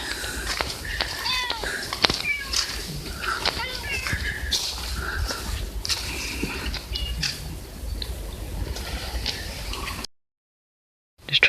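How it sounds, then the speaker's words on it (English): Cats meow repeatedly at the cat shrine on Tashirojima, Japan, several short nearby cries amid rustling outdoor background and quiet voices, ending in a sudden silence. "Just trying to have a rest and we got invaded by a cat."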